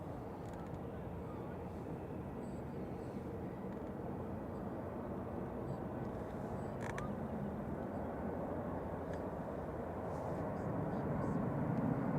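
A Boeing 737-800 airliner on approach to Manchester Airport gives a steady distant jet rumble that builds gradually toward the end, with faint creaks and clicks nearby.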